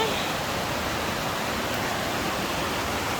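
Uisge Ban Falls pours in a constant, close rush of broadband roaring water. The noise holds level throughout with no pauses.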